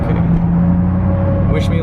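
Vehicle engines idle and rumble in stop-and-go traffic on a dusty road, heard from inside a truck as a steady low drone with a brief hiss near the end.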